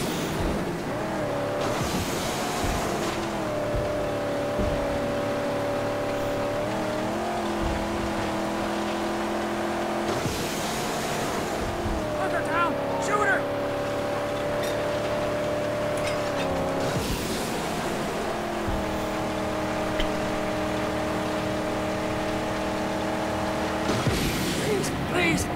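A car's engine in the Mad Max video game drones and revs through repeated gear-like rises in pitch, steady and close, with brief skidding and bumps between the surges.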